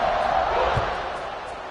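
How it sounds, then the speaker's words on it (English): A football stadium crowd buzzes loudly and steadily after a touchdown, a dense continuous roar with a brief low thump partway through. "this crowd is buzzing after that last score"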